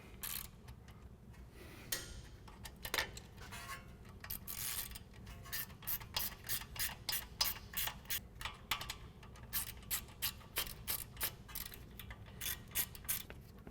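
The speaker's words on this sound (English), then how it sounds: "we'll tighten them down using our 10mm and our 8mm socket" A ratchet fitted with 10mm and 8mm sockets tightens bolts on a 2015-2020 Ford F-150 front suspension leveling kit, giving quick runs of sharp clicks close up and some scattered tool clatter.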